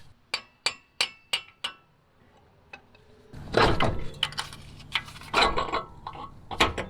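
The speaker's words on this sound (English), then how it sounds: "We might need to hammer it out a little bit." Metallic hammer strikes on a half axle during a seal leak repair, five sharp evenly spaced blows close up, followed by clattering, scraping and clinking as the axle shifts and slides out.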